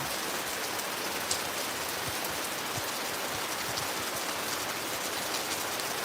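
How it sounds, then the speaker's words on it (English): Steady outdoor rain pouring down without pause, a dense even hiss of drops striking the ground and nearby surfaces at close range, with no voices. "and make space for this rain to fall."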